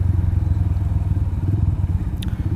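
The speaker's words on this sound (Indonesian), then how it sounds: "Tapi saya akan naik motor." A motorcycle rides along a road near Makassar, its engine giving a steady, close, pulsing low putter throughout, with a brief click near the end.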